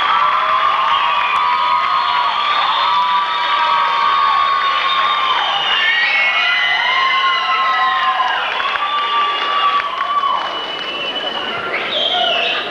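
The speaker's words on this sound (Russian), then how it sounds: "под ваши бурные аплодисменты" An audience at a KVN youth league final in a concert hall applauds and cheers steadily, with shouts and whoops rising from the crowd as teams come onto the stage.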